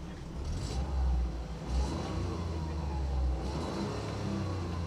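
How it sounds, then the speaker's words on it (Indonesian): A Toyota GR Yaris with a three-cylinder engine hums steadily from inside the cabin as it drives, with a low droning tone that swells slightly in a few brief surges over constant road and wind noise. "Nah, ini kerasa mesinnya tuh suaranya 3 silinder."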